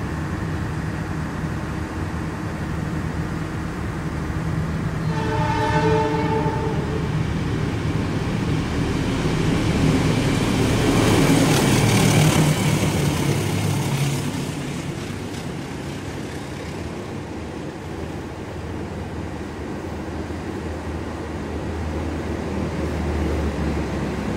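A passenger train rumbles steadily as it pulls into Sidareja station in Cilacap, with a brief high squeal of brakes and a broad surge of noise before it settles to a lower rumble, heard from inside a carriage.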